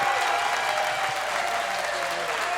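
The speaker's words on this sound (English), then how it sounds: "Let's another round of applause for these two." An audience at a live music session breaks into steady, dense clapping that carries on evenly throughout.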